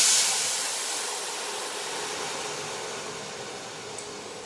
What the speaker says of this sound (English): So now it's time to add all our veggie stock, about 400 ml.